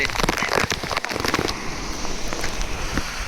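Rain falls at a cool hill station near Lanja with runoff water nearby, a steady hiss broken by sharper crackling drops early on, then settling into an even wash.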